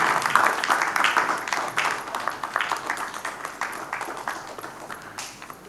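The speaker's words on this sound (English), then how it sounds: "A round of applause. A standing ovation is okay." Audience at an entrepreneurship and mentorship lecture breaks into applause for a standing ovation, a dense, sustained wash of many hands clapping at steady loudness throughout.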